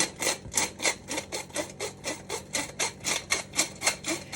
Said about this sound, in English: So we're gonna just sift those together.